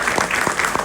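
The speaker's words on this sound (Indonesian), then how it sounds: "Tepuk tangan dulu untuk para" A gathered audience at a virtual national-values course ceremony for alumni gives a quick burst of dense clapping, steady and fairly loud for under a second.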